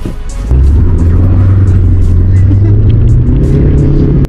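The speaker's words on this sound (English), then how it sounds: "This car's fast!" Fast Mercedes car driving, a loud, steady low engine drone and road rumble that starts abruptly and holds close and strong throughout, with faint clicks above.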